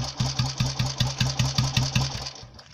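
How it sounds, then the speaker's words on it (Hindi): A Royal Enfield motorcycle engine thumps at idle in a steady, even beat of loud, close exhaust pulses that slow and die away at the end. "इतना होने के बाद अगर गाड़ी आपके उल्टे हाथ से स्टार्ट हो जाए"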